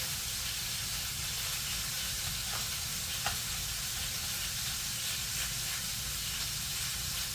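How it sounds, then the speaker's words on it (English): Shrimp sautéing in a pan, a continuous dense hiss and sizzle with a few faint clicks, steady and close throughout with no talk. "I better go check on that shrimp and give it a shake."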